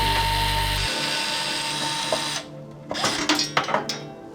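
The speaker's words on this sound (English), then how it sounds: "There's just 4 screws, 1, 2, 3, 4. So let's just go ahead and unscrew that." Electric screwdriver removing four screws from a PC case for a motherboard install: a whirring motor run that cuts off, then a series of short, close clicks and rattles as the screws come out.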